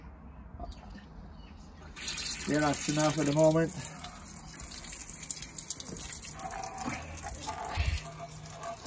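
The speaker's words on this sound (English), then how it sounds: "you can open the water a little bit." Water from a hose gushes into a sewer drain, starting abruptly partway through and running steadily under nearby voices talking.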